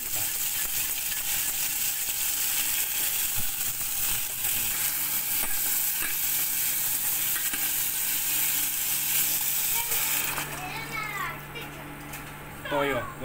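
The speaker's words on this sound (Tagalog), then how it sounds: "sa pagsabay mo ng gigisa yung bawang at saka sibuyas para sabay din silang maluto" Garlic and onions sautéing together in a pan for raisin pork adobo, a loud steady sizzle running throughout, with faint voices and light utensil clinks toward the end.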